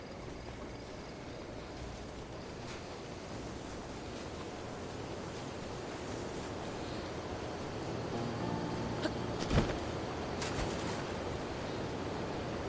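Steady, full rushing roar of a waterfall in Zora's Domain in The Legend of Zelda: Breath of the Wild, an even broadband wash that holds constant throughout, with a brief sharper splash or crackle near the end.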